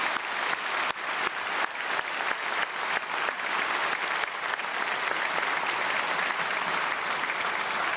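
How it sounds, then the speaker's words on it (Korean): Steady, loud applause from a church congregation at a special early-morning service, continuous clapping filling the space for the whole stretch without speech. "우리 박수로 축복하겠습니다."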